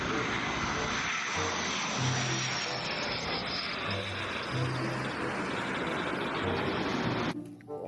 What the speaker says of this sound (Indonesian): Di sini ada pesawat Sukhoi.